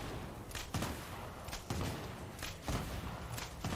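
A cryo bow firing repeatedly at a snake boss in a video game, several dull thumping shots in an uneven rhythm over a dense, steady game soundscape, at moderate loudness.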